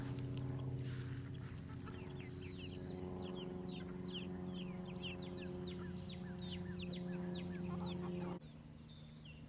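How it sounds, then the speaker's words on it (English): Chickens cluck and chirp in quick, scattered bursts over a steady mechanical hum, fairly quiet and close by. "Got chickens following me."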